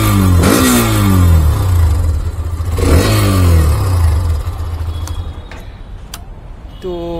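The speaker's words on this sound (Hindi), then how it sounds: "तो एक बार आपको रेव करके दिखा देता हूँ।" A warmed-up 2024 Hero Xtreme 125R 125cc motorcycle engine revs close by, two sharp blips rising and falling over a loud idle, then settling back to a steady idle.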